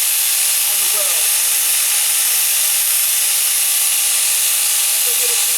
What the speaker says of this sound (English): I'm just letting the grinder do the work.